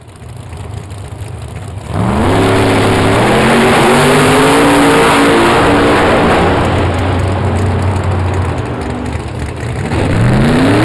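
Drag racing cars launch at Kil-Kare Dragway, a low idle suddenly bursting into a loud engine roar that climbs through several rising shifts and stays loud before fading slightly, then another revving climb near the end.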